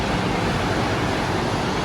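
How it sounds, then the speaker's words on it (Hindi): Ocean waves wash onto the shore in a constant, loud roar of surf with a breezy hiss mixed in, unbroken and without voices. "लहरों की आवाज"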